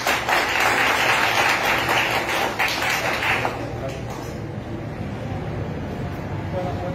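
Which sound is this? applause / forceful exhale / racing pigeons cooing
applause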